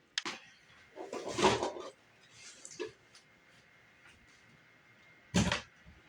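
A gecko enclosure door is opened in a quiet room: a few short clunks and scrapes, one near the start, a cluster around the middle and a sharp one near the end.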